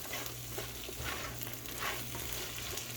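Food is stirred as it fries in a pan over medium-high heat, giving a close, continuous sizzle with soft scraping swells from the stirring and no voices.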